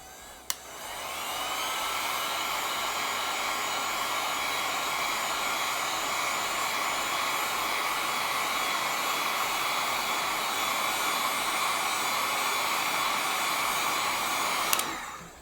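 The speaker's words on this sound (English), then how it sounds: "heat gun, and it's just going to direct the heat a little bit more" A heat gun warms resin drips on an alcohol ink and resin seahorse piece, giving a loud, steady whooshing blower roar that starts abruptly and runs unbroken until it cuts off near the end, with no talking.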